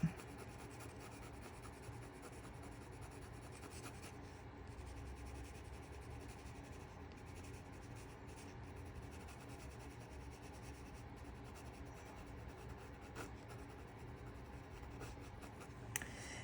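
Colored pencil layering color on paper while drawing feathers, a steady soft scratchy rubbing that continues close and unbroken, with no talk.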